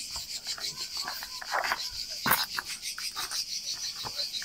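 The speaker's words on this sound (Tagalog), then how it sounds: "Kuliglig." Cricket chirping in an outdoor setting in Kassiopi, Corfu, a steady high insect buzz running throughout with rubbing, rasping noises and brief voices nearby.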